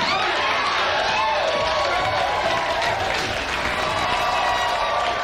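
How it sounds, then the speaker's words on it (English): A crowd at a wrestling match cheers and claps in a dense, steady roar that holds loud throughout, with voices mixed into the din. "You hear the crowd? They're going to be cheering for you just like that."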